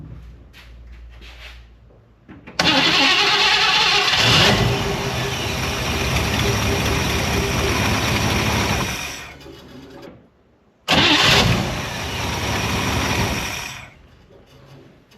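A hot rod car engine cranks and fires, then runs loud and steady for several seconds, cuts out briefly, and restarts with another loud burst before settling.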